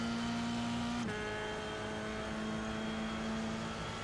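An F3 race car engine in a racing video game holds a loud, steady drone, with a sharp pitch drop near the one-second mark at a gear shift before the tone climbs again.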